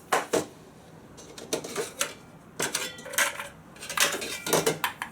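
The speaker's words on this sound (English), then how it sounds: "The 2 bowls or pots are hard anodized, and they obviously nest in each other" Hard anodized Trangia stove pots and bowls clatter and clink as they are handled and nested, a series of sharp metallic knocks in irregular bursts, close and fairly loud.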